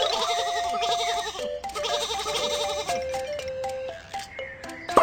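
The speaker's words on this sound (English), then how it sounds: "Some sheep are on the train track." Cartoon sheep on a train track bleat in a children's Baby Bus train video game, a continuous string of wavering, overlapping bleats over bright game music, fairly loud and alone.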